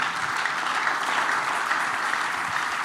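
A church congregation applauding in a dense, even wash of clapping that holds at a steady level throughout, with no voices standing out.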